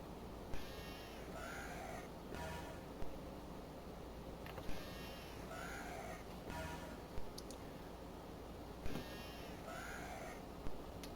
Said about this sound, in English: I see no reason for you to keep flying around like that, birds.